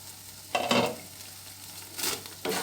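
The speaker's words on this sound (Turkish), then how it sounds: "Böyle bir karıştırıyorum." Meat for Mersin tantuni being stirred in a pan, with a few separate bursts of scraping and light sizzle over a quiet kitchen background, close and moderately loud.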